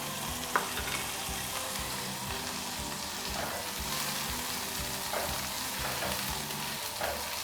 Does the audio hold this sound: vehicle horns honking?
no